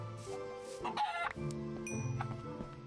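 Chickens cluck near a windmill in Minecraft, a few short clucks over a steady hum of background game music, fairly faint and close, with a bright chime near the end.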